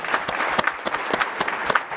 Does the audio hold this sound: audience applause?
yes